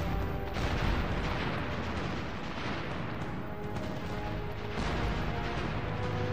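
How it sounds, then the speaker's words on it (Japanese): Naval gunfire from the battleship Ise shelling an enemy airfield in a PS2 wartime naval strategy game rumbles as a continuous dense barrage of heavy booms, loud and unbroken throughout. "第二艦隊の伊勢も砲撃を始めましたね。 敵の飛行場に対して砲撃を始めてます"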